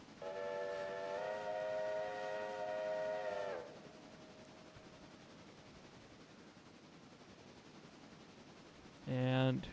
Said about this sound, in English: there comes the passenger train.